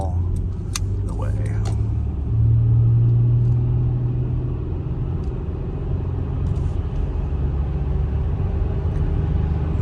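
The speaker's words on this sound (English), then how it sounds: "Nice acceleration in these vans." Interior of a 2008 Honda Odyssey EX minivan accelerating, a steady low engine and road rumble with a brief rising tone, alone without talking.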